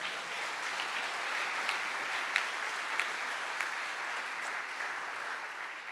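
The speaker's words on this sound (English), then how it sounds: "that deserves applause" Steady applause fills the hall at the Golden Goose Award ceremony, a broad, even wash of clapping from a sizable audience, heard from a moderate distance and sustained throughout without pause.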